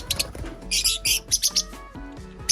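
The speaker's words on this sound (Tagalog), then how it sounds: "Ito na nga ang ating mga African lovebirds sila." African lovebirds chirp in quick, bright bursts close by, calls overlapping in an uneven flurry around a nest box with no voices present.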